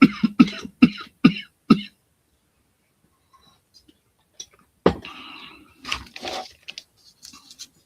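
A man coughs in a rapid cluster of five or six harsh, close bursts, then a pause with faint rustling before a throat clear and more muffled coughing and shuffling.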